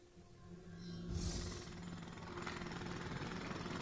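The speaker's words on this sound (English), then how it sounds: "Jackhammer, appreciate the touch." Jackhammer in the fighting video game Injustice: Gods Among Us, a faint, steady mechanical pounding rattle that builds in the first second and then holds evenly to the end.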